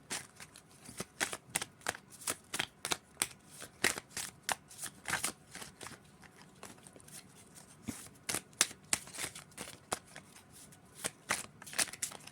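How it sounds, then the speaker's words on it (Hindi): Tarot cards being shuffled by hand, a steady run of crisp riffling snaps and soft flutters that repeats in quick bursts for the whole stretch, close and fairly quiet with no talking. "जो भी शफल होके गिरेंगे वही लूंगी, मैं खुद से कार्ड नहीं लूंगी"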